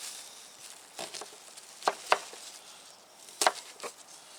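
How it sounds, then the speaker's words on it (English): A knife coarsely chopping onions for homemade hot sauce, a handful of irregular sharp thuds on a cutting board, close and fairly quiet with no talking. "So just a real coarse chop on your onions."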